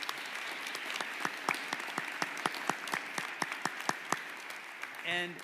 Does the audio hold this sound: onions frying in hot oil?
no